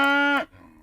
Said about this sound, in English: a cow gave out a sound that sounded nothing like the gentle moo of children's books